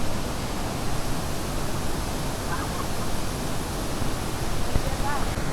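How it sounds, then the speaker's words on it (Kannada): Gokak waterfall pouring down with a steady, dense roar of falling water, loud and unbroken throughout, with faint voices briefly audible over it. "ನೀರು ಇಲ್ಲೇ ಬೀಳತ್ತವು"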